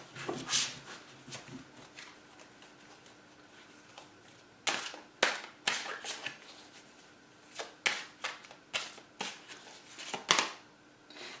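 Angel Tarot cards being shuffled and one pulled from the deck, heard as a quiet run of crisp riffles and flicks followed by sharper bursts of card snaps in uneven clusters, close and alone with no talking.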